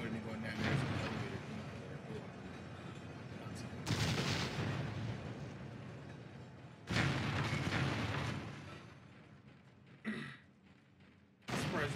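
Explosions from the Dead Space video game boom in several heavy bursts across the stretch, separated by rumbling gaps, with a player talking over the action at a moderate level.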